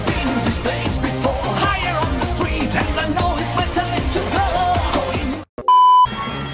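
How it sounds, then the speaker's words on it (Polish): After a stretch of dense music, an electronic alarm gives a brief, loud, steady beep, close and clear, right after a sudden cut to silence. "Alarm się włączył, nie wiem czemu!"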